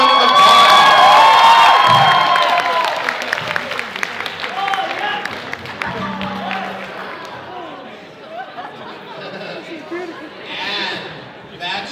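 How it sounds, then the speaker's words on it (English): A convention crowd at a cosplay blind date event cheers, whoops and claps loudly for a bachelorette, the burst of shouting and applause fading over several seconds into scattered calls and talk. "Give her a round of applause."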